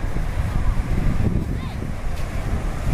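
Sea waves of the Bay of Bengal at Rajhans island by Chilika Lake near Puri, Odisha, wash in a steady close surf roar mixed with wind buffeting the microphone.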